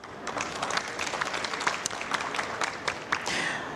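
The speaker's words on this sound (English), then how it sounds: "So big applause for them." An audience applauds steadily, many hands clapping at once, loud and sustained throughout.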